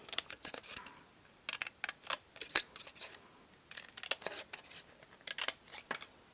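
Scissors snip through paper while fussy-cutting a star-shaped paper snowflake for a gift box, in quick clusters of sharp, close crisp cuts separated by short pauses.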